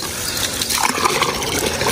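Water mixed with leftover bread is poured out for animals to drink, a short gushing splash that swells in the middle and then runs steadily.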